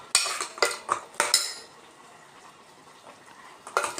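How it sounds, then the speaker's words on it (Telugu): A metal spoon scrapes and clinks against a pan while brinjal masala with mutton is stirred, several sharp close clatters in bursts separated by a quieter stretch. "బాగా కొంచెం సేపు ఇలా కలపాలండి"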